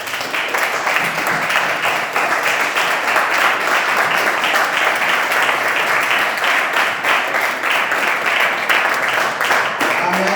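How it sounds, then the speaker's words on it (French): A church congregation applauds loudly and steadily during a French-language sermon, dense clapping filling the whole stretch with some voices mixed in. "Est-ce qu'on peut applaudir très fort?"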